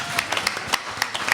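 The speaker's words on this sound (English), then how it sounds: "So give yourselves a round of applause." An audience at a political speech event gives a round of applause, a brief patter of scattered hand claps with sharp individual claps standing out, fairly close and steady.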